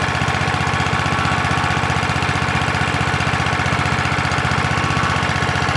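A small portable engine running on wood gas from a gasifier, fitted with a muffler, drones loud and steady with a fast even firing pulse throughout, close by and with no talking.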